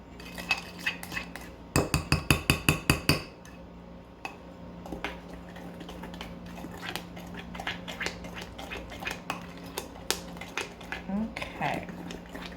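Spoon stirring sugar into an apple cream pie mixture in a bowl, a fast burst of bright, regular clinks and scrapes early on, then scattered lighter taps against the bowl, fairly close.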